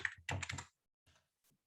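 Someone types a zip code on a computer keyboard. A short burst of quick, close key presses is followed by a pause and a couple of faint final taps, with no one speaking.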